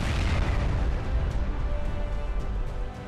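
Heavy explosive rumble from an Israeli air strike in Gaza, a loud sustained boom with deep low roar that stays strong for the whole three seconds and tapers slightly at the end, with no voices.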